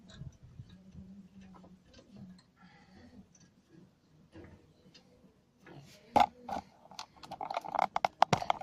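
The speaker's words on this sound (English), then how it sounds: "it's again with a 7mm exit key, we're gonna just screw the screws over again" A 7mm key turning brake pad screws on a Saab 9-5, quiet sparse ticks at first, then a quick run of sharp close ratcheting clicks toward the end.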